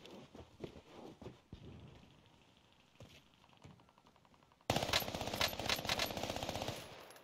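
Gunfire in an online shooter video game comes as scattered single shots early on, then erupts into a sudden dense burst of rapid automatic fire that keeps going to the end.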